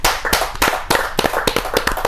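Applause for an honoured speaker at a Hindi poetry gathering, a kavi sammelan, with bursts of clapping rising and fading in uneven waves, fairly loud and close, with no talking over it.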